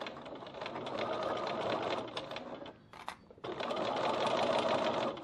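Sewing machine top stitching a bag strap at a 3.1 stitch length runs in a steady, close whir, stopping briefly midway before starting again for a second long run.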